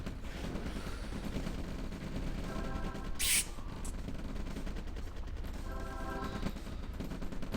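Rifleman gunfire in the OpenRA strategy game at a gun yard: steady, rapid bursts of small-arms fire run continuously over dense battle noise, with one sharper crack near the middle.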